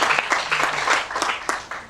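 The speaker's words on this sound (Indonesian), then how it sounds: "Tepuk tangan dong untuk Tuhan Yesus Kristus" A church congregation breaks into applause during a sermon: dense, rapid hand-clapping from many people, loud and close, sustained through the whole short stretch.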